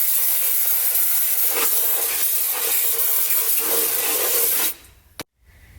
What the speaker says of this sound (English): I'm gonna hit this with some brake clean